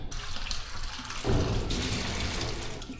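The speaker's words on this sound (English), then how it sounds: "I'm just putting a wee bit of hot water here." Hot water pours steadily from close by, a continuous splashing rush that grows fuller partway through.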